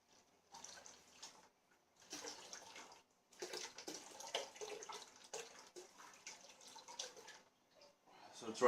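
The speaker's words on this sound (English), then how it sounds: "just get some cold water and cover and just like fill in up to the 5-gallon mark" Cold tap water runs into a 5-gallon plastic mead bucket over honey, a splashing, hissing pour that comes in bursts with short pauses, near and moderately loud, with a person talking briefly.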